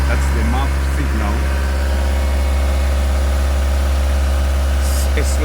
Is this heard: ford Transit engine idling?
yes